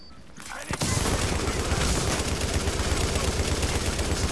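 Loud, sustained gunfire in the video game The Division: dense automatic bursts roll on continuously after a brief quieter opening, filling the whole scene.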